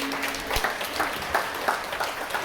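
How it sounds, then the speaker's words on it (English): Modest applause from a campground crowd at a stage hypnosis show, a soft, somewhat distant patter of clapping with a few sharper claps standing out throughout. "Give them a round of applause."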